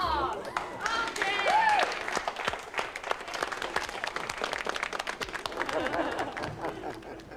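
Museum visitors clap after acting out a mock Western gunfight scene, a ragged round of hand claps following a spoken line, fairly close and continuing for several seconds amid chatter.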